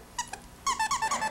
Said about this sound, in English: you can take one of their toys. Rommel, Rommel, Rommel. There you go, and you can squeak it over the camera